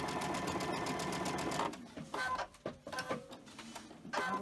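A sewing machine stitches quilt pieces along a quarter-inch seam, a fast mechanical whirring run up close that stops and gives way to a few short bursts of stitching.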